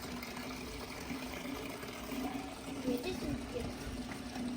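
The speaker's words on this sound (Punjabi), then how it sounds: "ਬਿਲਾਲ ਨੇ ਬਾਲਟੀ ਰੱਖੀ ਆ ਪਾਣੀ ਭਰਨ ਵਾਸਤੇ" A bucket fills with water for watering plants, a faint, steady pour with a low hum running beneath it and slight swells in the flow.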